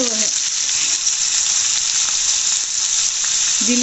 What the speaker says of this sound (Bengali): আমি যে হালকা জালে ভাজবো লো ফ্লেমে, বেশি জোরে জাল দেবো না